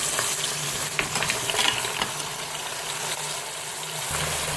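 Veal osso buco pieces fry in a Cookeo electric pressure cooker pot, a dense, steady sizzle with crackles and faint scraping, heard up close with no talking.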